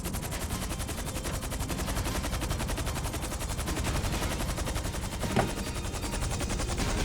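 In GTA 5, dense, rapid automatic gunfire rattles continuously at a mini-sub, a steady loud barrage with no pauses from start to finish.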